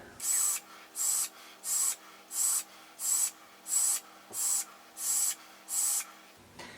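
Nine even puffs of airy hiss come from chain pulls drawn one after another through a Jarvis vape tank at 78 watts, each burst close and soft and separated by short quiet gaps.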